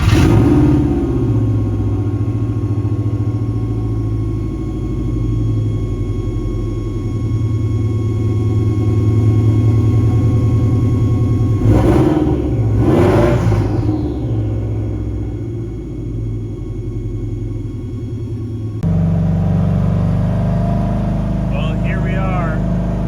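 A Volkswagen Beetle engine loud and close, running with a rumbling drone that surges into a rev partway through and then settles, with a person talking over it.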